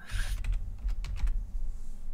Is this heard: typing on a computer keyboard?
yes